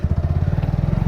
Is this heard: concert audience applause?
no